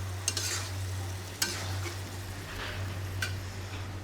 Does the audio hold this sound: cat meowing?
no